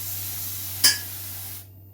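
A Dettol cleaner spray bottle gives one short, crisp spritz onto a worktop, close and clear over a faint steady hum, followed by quiet.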